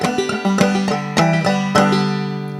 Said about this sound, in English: So if I play through that first line now, it sounds like this.